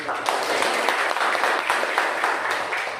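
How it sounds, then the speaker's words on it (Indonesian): A classroom of students applauds together, a dense burst of clapping hands held steady for a few seconds, close and lively. "Oke, tepuk tangan."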